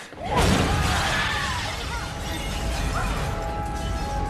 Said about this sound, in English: that explosion from that far away wouldn't have caused the glass to blow out